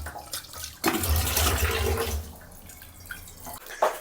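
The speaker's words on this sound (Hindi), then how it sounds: "मैं जब तक बर्तन धो रही हूँ तब तक इसमें पानी भर के अपने" Tap water rushes into a pot at a village kitchen sink during dishwashing, a loud gushing stream that swells and then tapers off, ending in a few splashes and drips.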